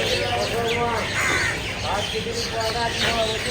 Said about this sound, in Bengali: কাক আর দুই ধরনের শালিক